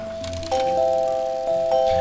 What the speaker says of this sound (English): there's like four bells and they're all ringing at the same time